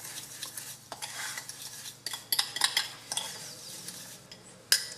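A coffee and sugar body scrub mixture stirred in a bowl, a soft gritty scraping with light clinks of a spoon against the container, quiet and close, coming in uneven bursts.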